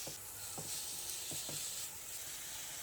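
Ground meat simmering in a pan gives a steady soft sizzle, with a few dull scraping stirs of a utensil at irregular intervals, close and fairly quiet with no talking.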